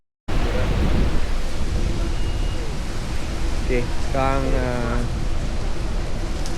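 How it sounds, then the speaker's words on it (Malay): Steady broadband rain noise in Sydney's Haymarket area, with a possible thunder rumble underneath, running continuously from start to finish while a voice speaks briefly over it. "Hujan pula."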